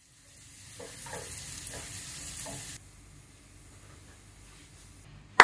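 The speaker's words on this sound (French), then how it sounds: "J'ajoute ensuite l'oignon, l'échalote et les gousses d'ail et je laisse revenir le tout pendant quelques minutes." Onion, shallot and garlic sauté in a pan, giving a close sizzle with a few stirring scrapes for about three seconds. The sizzle then drops to a quiet background, and a sharp knock comes at the end.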